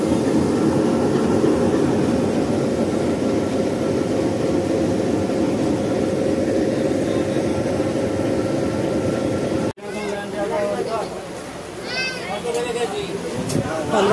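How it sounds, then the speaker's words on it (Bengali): The Bhatiapara Express stands about to depart after its engine has been turned around, with a loud steady rumble and hiss of the train that cuts off abruptly, followed by lighter station noise and scattered higher tones. "কিছুক্ষণের মধ্যে ট্রেন আবার ছাড়বে, যেহেতু ইঞ্জিন ঘোরানো শেষ।"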